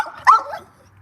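A single sharp dog bark, small and yappy, sounds once nearby and quickly fades to quiet.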